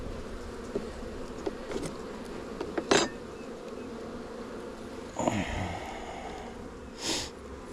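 Honey bees buzz steadily around an open hive frame during a spring varroa mite inspection, a soft continuous drone with a few brief louder knocks and handling noises.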